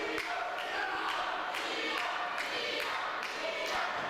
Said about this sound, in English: This crowd rallying behind Liam Thomson.